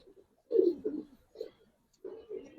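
A chila pigeon gives a few low, soft cooing phrases in short bursts separated by brief quiet gaps, heard close by with faint voices in the background.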